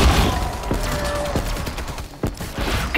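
Ray gun fire in Call of Duty Cold War zombies, a burst of sharp synthetic blasts and impacts in quick succession under dense game noise, with no talk.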